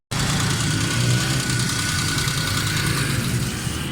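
A Suzuki Khyber car engine with a carburetor and fuel fault, running steadily at idle close by, a loud even drone with a low rumble and faint vibration.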